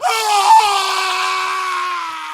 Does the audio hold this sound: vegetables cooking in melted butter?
no